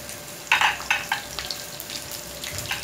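Sliced onion and whole black peppercorns frying in about half a cup of hot oil for mash dal, with a soft steady sizzle broken by a few sharp crackling bursts.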